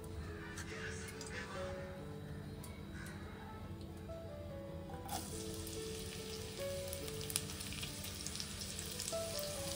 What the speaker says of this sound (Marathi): तेल गरम झालं की कांदा टाकायचा।